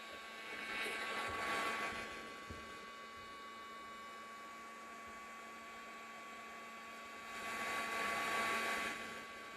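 A heat tool blows hot air over thick clear resin in a phone stand mold, a steady airy whoosh that swells twice and fades to a faint hum between, close and without talk.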